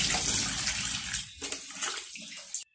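Cut catfish pieces rinsed in a basin of water, with steady splashing and sloshing that runs loud throughout, pauses briefly twice, then cuts off abruptly near the end.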